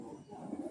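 A pigeon at a Kolkata high-flyer pigeon sale gives a brief, soft coo, faint and low against quiet surroundings.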